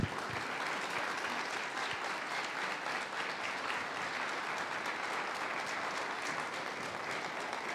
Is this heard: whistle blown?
no